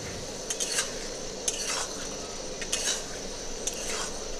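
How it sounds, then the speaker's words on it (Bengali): A spoon stirs tarka dal with egg in a pan, giving repeated scraping strokes at a slow, even rhythm, with a soft sizzle running underneath. "ভালো করে নেড়ে নিচ্ছি।"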